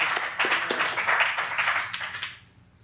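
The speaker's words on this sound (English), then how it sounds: "Let's give her another great round of applause there." An audience at a poetry recital in a San Francisco public library branch gives a short round of applause, a brisk patter of hands that thins and fades out near the end.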